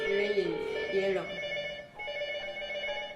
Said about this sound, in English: And the first phone is ringing.